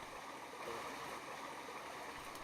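A small stream, the Gargot near Saint-Pierre-d'Albigny, flows with a steady, faint broadband rush of water and no talking.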